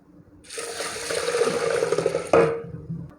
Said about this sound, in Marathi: आणि आता ह्या स्वच्छ धुवून घ्यायचं